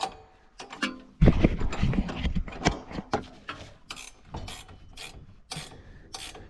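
A ratchet tightens a bolt on a diesel-powered Power Wheels ride-on toy, making close, sharp bursts of metallic clicking in irregular spurts with short pauses between them.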